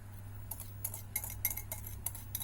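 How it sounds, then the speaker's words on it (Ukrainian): Eggs whisked with a whisk or fork in a bowl while making a fish casserole with hake: quiet, rapid, uneven clinks and scrapes of metal against the dish, with no talking. "Тепер обов'язково збиваємо вінчиком або вилкою."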